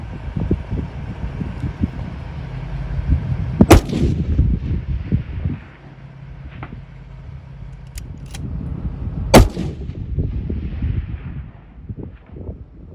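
Rifle shots fired outdoors at a distant rock: two sharp, loud cracks several seconds apart and one fainter report, with wind rumbling against the microphone in between.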